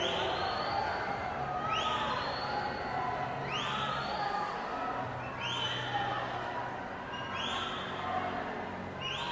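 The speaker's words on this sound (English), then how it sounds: "the swimmers can certainly hear the cheers" A crowd lines a swimming pool at an age group meet in New Zealand, cheering loudly and without a break. Repeated whistles and shouts rise over the roar.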